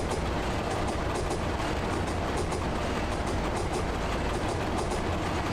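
Train running down the line in the Train Driver 2 game as it approaches a stop with the speed limit dropping to 60, a steady rolling rumble with a faint rhythmic clickety-clack of wheels, continuous and alone without talk.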